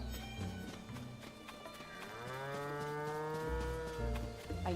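Cows on a farm in the Legend of Zelda: Tears of the Kingdom video game give a long, drawn-out moo that rises and holds, close and clear over faint background sounds.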